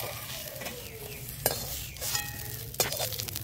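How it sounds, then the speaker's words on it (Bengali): Bitter gourd and eggplant pieces frying in plain oil without salt or turmeric in a home kitchen, a steady sizzle with occasional stirring scrapes and clinks of a spatula against the pan. "আমি যে উচ্ছে আর বেগুনটা যে ভাজলাম, আমি কিন্তু এর মধ্যে কোনো নুন বা হলুদ কিচ্ছু দিইনি, শুধু এমনি তেলের মধ্যে একটু নেড়ে নিলাম।"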